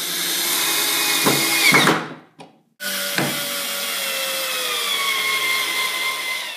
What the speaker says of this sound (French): J'ai décidé de visser les pieds aux